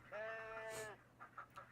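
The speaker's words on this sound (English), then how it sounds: "so there's sheep in here" A single drawn-out bleat of a sheep in a video game rings out clearly for about a second, followed by a few short, softer sounds.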